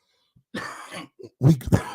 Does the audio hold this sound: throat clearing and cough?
yes